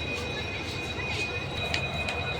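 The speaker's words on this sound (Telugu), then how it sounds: "ఇది వచ్చేసి కృష్ణరాజపురం లోకోషెడ్ డీజిల్ ఇంజిన్" A diesel locomotive from the Krishnarajapuram loco shed idles with a steady low throbbing rumble and a thin high whine, a few faint metallic ticks over the top.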